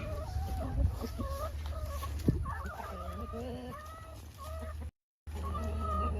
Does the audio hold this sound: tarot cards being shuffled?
no